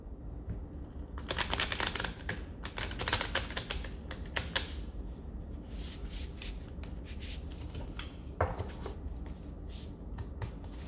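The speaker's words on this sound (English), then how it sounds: "shuffling it a little bit, because it is a new oracle deck" A new oracle card deck being shuffled by hand, bursts of quick, crisp papery riffling and card slaps that come and go over several seconds, close and fairly quiet, with no talking.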